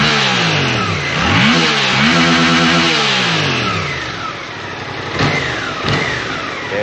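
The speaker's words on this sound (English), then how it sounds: "Take a listen at the exhaust." Exhaust of a 2024 Suzuki GSX-8S motorcycle revs up and down close by, loud and steady, with rising and falling engine pitch and a couple of sharp blips near the end, no talk over it.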